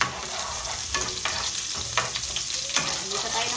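Sauce sizzling and frying in a pan, with occasional stirring clinks and scrapes over a steady close hiss.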